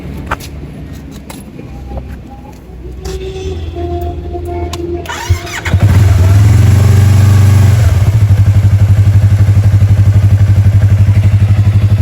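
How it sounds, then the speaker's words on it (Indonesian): A Yamaha MT-25 motorcycle with an Agesti slip-on exhaust clatters and ticks at idle, then is revved hard into a loud, steady throaty drone from the exhaust. "Di sini saya akan mencoba suara dari knalpot Agesti ini"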